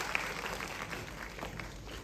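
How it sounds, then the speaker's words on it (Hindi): An audience gives steady, moderately loud applause to welcome Uttarakhand folk artist Indu Arya, a continuous wash of clapping across the whole stretch. "जोरदार तालियों से स्वागत कीजिए इंदु आर्या जी का।"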